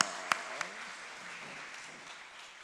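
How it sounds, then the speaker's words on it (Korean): A church congregation claps for its teachers during a Friday late-night worship gathering, a steady, even wash of applause with a couple of sharper claps near the start, fading slightly toward the end, with a voice faintly beneath it. "교사들 뒤로 돌아서시고요 축복의 박수 한번 하겠습니다."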